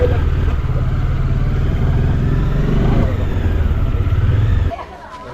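A motorcycle engine drones steadily on the way from Mattupetty to Kundala Dam, a mid-pitched rumble with crowd chatter mixed in, then dropping away sharply near the end.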